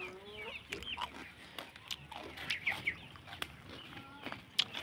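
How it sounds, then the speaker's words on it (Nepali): Chickens cluck and squawk in a farmyard enclosure fenced with wire mesh and iron posts, with short overlapping calls coming steadily at moderate distance against quiet background noise. "यहाँ कुखुराहरू"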